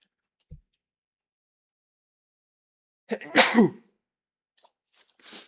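A single person sneezes once, loud and close, after a small click and near silence, with a short breathy sound trailing after it.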